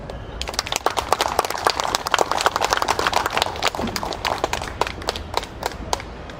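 Sustained applause from a crowd at an outdoor founding ceremony in a park, dense rapid clapping filling several seconds with steady loudness, alone without speech.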